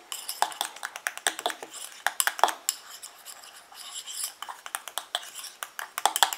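A spoon clinks and scrapes against a bowl while calendula cream mixture with calendula CO2 extract is stirred, giving quick, irregular metallic taps and ticks, close and fairly loud, with no talking.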